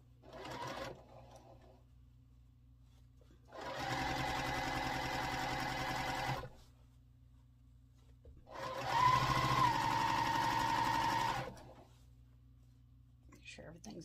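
A sewing machine joins quilt block rows in two steady bursts of a few seconds each, separated by quiet pauses, with a brief murmur of talk at the start.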